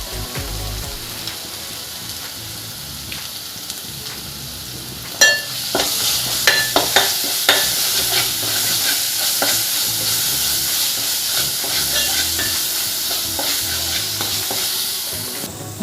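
Ginger garlic paste and tomato paste fry in a pan for a Telugu mango fish curry, a loud continuous sizzle that swells sharply partway through, with scattered stirring clicks and spoon scrapes.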